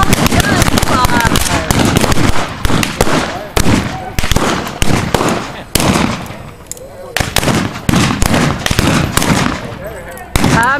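A staged Old West shootout in Spurger, Texas, with blank gunfire popping in rapid, uneven volleys of sharp close shots almost without pause. Voices are heard between and under the bangs.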